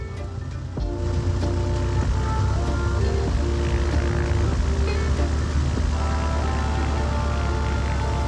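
A propeller aircraft drones loudly and steadily at Montgomery-Gibbs Executive Airport in San Diego, its engine tone building after the first second and holding close and continuous, with no talking.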